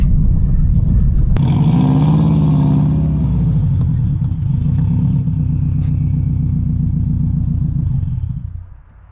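Subaru WRX engine running after a clutch fork pin repair, a loud close rumbling idle that rises briefly in a rev, then settles into a steady throbbing drone before fading out.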